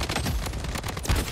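A rapid burst of AK47 gunfire in the shooter game Blood Strike, sharp repeated shots cracking close and loud in quick succession with no voices.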